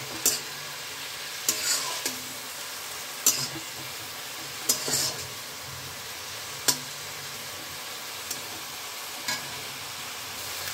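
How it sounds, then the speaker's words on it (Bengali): Fried eggplant being stirred into mustard greens in a pan, a soft continuous sizzle punctuated by a handful of sharp spatula scrapes and knocks against the pan every second or two, close, without voices. "বেগুনটাকে এবার শাকের সাথে খুব ভালো করে মিশিয়ে নিচ্ছি।"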